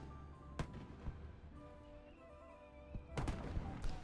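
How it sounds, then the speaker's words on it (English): Fireworks going off in the city-building game Cities: Skylines, a few sharp bangs and crackling bursts scattered over a steady ambient game backdrop, with a denser cluster of pops toward the end. "do some fireworks at a time of night"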